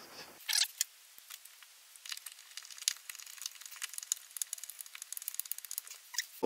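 Screw driven in by hand to refit a wheel arch cover inside a camper van, a quick run of faint, close clicks and ratcheting ticks that grow denser toward the end.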